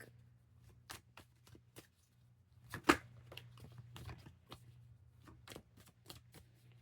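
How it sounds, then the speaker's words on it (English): Tarot cards being shuffled by hand, a series of crisp slaps and riffles at an uneven pace, close up over a low hum. "the way that the cards are shuffling today feels really chaotic"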